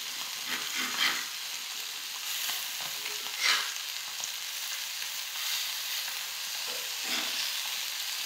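Small puti fish fry in hot oil with a steady, close sizzle and hiss, broken now and then by brief louder spatters and stirring sounds.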